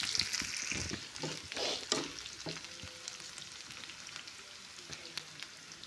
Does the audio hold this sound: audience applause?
no